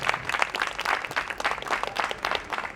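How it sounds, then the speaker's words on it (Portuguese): A festival talk audience breaks into brief, fairly quiet applause for a featured woman, a few seconds of dense clapping rising and falling in waves. "Palmas para ela."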